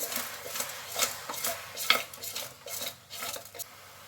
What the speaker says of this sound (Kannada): ಉಪ್ಪು ಹಾಕ್ಬಿಟ್ಟು ಸ್ವಲ್ಪ ಮಿಕ್ಸ್ ಮಾಡ್ತಾಯಿದ್ದೀನಿ.